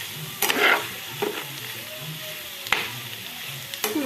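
An onion and coconut chili mixture sizzles softly in a pan, with a few sharp scraping stirs breaking through the low, steady frying hiss.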